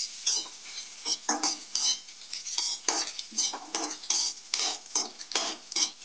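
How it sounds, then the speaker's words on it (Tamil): Onions, ginger and curry leaves sauté in a pan for a mushroom pepper gravy while a spoon scrapes and clinks against the metal in a quick, irregular rhythm, close and fairly loud, over a soft background sizzle. "கருவேப்பிலை நல்லா பொன்னிறமா வெங்காயம் வர வரைக்கும் நல்லா வதக்கிக்கணும்."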